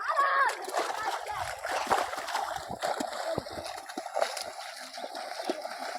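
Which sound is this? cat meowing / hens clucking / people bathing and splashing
people bathing and splashing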